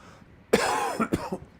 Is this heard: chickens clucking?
no